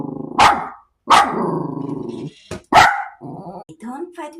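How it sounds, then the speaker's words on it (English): A small Maltese dog barking at an automatic sensor trash can, giving a few sharp close barks with growly tails, separated by short gaps, while a person speaks to it in between. "why are you barking?"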